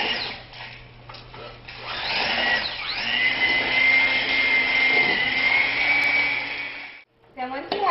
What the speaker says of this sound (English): take those ingredients to the mixer on high and beat them